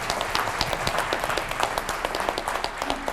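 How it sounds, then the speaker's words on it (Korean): A seated audience at a corporate business event applauds to welcome an honored chairman, dense steady clapping filling the room for the whole stretch at moderate loudness, with no voices over it. "박수로 맞아주십시오."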